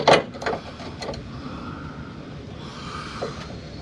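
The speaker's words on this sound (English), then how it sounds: "I should be able to get it with this wrench" A wrench working a part loose on the fuel tank of a 1966 Ford Mustang: a few sharp close metallic clicks and scrapes, then quieter mechanical rustling.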